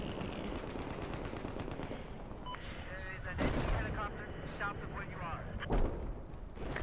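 Battlefield 4 combat with bursts of gunfire and booming explosions, fairly faint and mixed, with a louder blast near the middle and another toward the end, under in-game voices.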